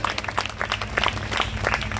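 Church congregation clapping steadily through a Christmas sermon, a dense patter of many hands at moderate loudness with a low hum beneath and no clear speech.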